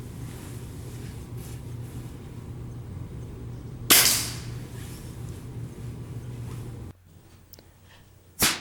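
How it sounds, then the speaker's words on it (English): A Friedrich Langenhan Gem air rifle fires a single hobby pellet outdoors in sub-zero weather at a range, one sharp crack midway over a steady low hum, followed by a second brief snap at the very end. "my first attempt was to sight it in with hobby pellets"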